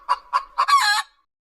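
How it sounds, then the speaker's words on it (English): A hen gives three short clucks followed by a longer, drawn-out cackle, loud and close, then silence. "hen"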